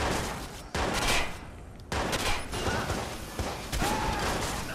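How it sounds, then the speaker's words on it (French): Gunfire in the video game Watch Dogs, a dense fusillade of shots in several loud bursts with brief gaps, mixed with mechanical clatter and no clear talk. "il y a des coups de feu"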